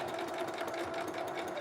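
A sewing machine stitches a fabric headband, set back to regular stitch length, giving a continuous close whirring drone with a fast even mechanical rhythm and no one speaking.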